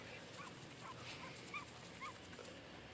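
A dog in the mobile action game Flash Strike: Tomorrow Hero gives a few short, soft whimpering yips spaced over a couple of seconds, faint against a steady game background.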